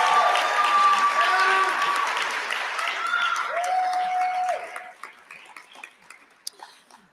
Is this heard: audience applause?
yes